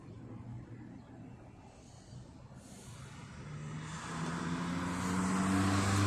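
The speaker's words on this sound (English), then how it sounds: "I wonder what the hell that vehicle was" A road vehicle approaches and passes, a low engine rumble that starts faint and swells steadily louder toward the end, heard without speech.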